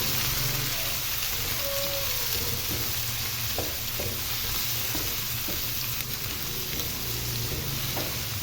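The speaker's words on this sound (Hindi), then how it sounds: "सारी चीज़ों को हम इकट्ठे ही ऐड करके प्याज के साथ ही फ्राई कर लेंगे।" Onions fry in a pan with garlic, ginger paste, green chili and tomato, a dense steady sizzle with occasional stirring scrapes, close and continuous, with no talking.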